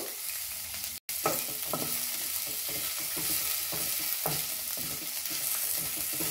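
Coriander seeds, black pepper and fenugreek seeds roast in a pan, a close dry crackling sizzle with scraping stirs, steady throughout apart from a brief dropout.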